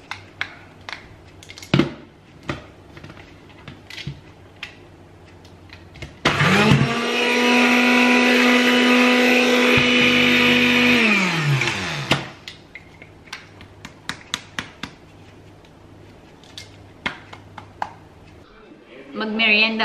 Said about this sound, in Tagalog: Ilagay ko na lang siya, guys, sa blender para mabilis yung carrots.